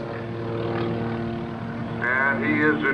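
A propeller aerobatic airplane makes a low pass at the 2004 AirPower Over Hampton Roads airshow, its steady engine drone rising near the end as it comes closer, heard alone with no voices.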